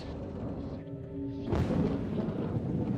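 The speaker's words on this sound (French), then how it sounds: "Ces images tournées ce soir-là par une chaîne locale prouvent la violence de l'orage qui s'abat sur Little Rock" A violent thunderstorm over Little Rock, Arkansas rumbles with a low roll of thunder that swells into a broad, sustained wash of storm noise and rain, with a steady hum beneath it.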